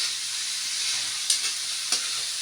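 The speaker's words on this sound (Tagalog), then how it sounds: "Medyo pipirito ko lang muna ng konti." Squash (kalabasa) fries in a pan with a steady, dense sizzle, broken by a couple of brief stirring scrapes.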